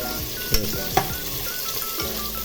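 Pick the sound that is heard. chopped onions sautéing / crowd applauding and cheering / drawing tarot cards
chopped onions sautéing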